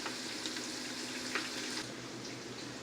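Bacon frying in a pot produces a steady, soft, close hiss with a few faint crackles, heard on its own.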